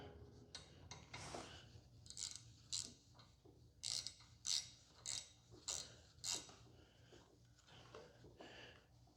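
Fittings on a QuickJack 7000TLX car lift are snugged back up by hand, a series of close, quiet ratcheting clicks and short metallic bursts in an irregular rhythm with no talking.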